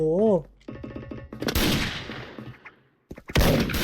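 Sniper rifle shots in a shooting video game, a couple of loud sharp blasts with short decays, mixed with brief game sounds and a voice talking.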